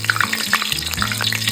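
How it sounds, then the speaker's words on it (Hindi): Coconut and curry leaves frying in hot oil for poha chivda, a close, loud crackling sizzle with bursts of popping and spitting over a low steady bubbling, no talk. "अब हम इसमें नारियल और करी पत्ता भूनेंगे।"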